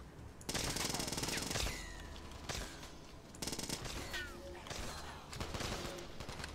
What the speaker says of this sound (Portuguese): Tem que meter a shotgun nele.